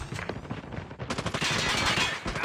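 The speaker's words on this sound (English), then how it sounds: "Sentry gun deployed." Automated sentry gun firing in a first-person shooter hardpoint match, a dense run of rapid shots that grows louder and more continuous toward the end, standing alone without talk.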